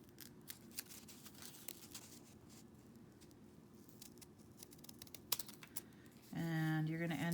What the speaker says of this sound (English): So I cut that little piece off.